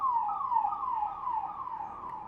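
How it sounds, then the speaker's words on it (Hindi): An ambulance siren wails in a steady repeating rise-and-fall pattern, fairly loud and close, passing by outdoors with no speech over it. "एम्बुलेंस जा रही है"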